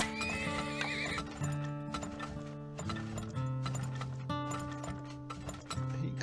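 Horses in the video game Turmoil neigh and clip-clop steadily over looping game music, with mechanical gear-like ratcheting sounds, loud and continuous.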